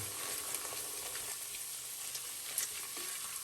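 Turmeric and garlic frying in oil for an aubergine curry give a soft, even sizzle that holds steady the whole time, with faint crackles and one small stir near the end.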